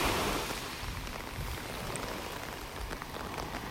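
Steady, persistent moderate rain falls on a beach in North Naples, Florida, a dense continuous patter with faint surf beneath, close and even throughout with no voices.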